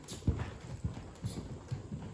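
Horse hooves clip-clopping in a steady, even rhythm on firm ground as the horse is worked along a fence in training, about two hoof beats per second, fairly soft and close, with no talking.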